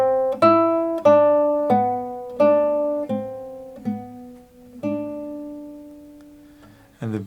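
Classical guitar playing the rolling minor melody of Satie's Gymnopédie, a run of clear plucked notes ringing over each other at a slow, steady pace, fading gradually, close and solo, with a faint brush of string noise at the end.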